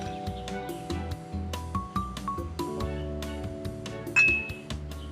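Drinking glasses clink together in a celebratory toast, giving one bright ringing chime among softer taps and light tones in a quiet room.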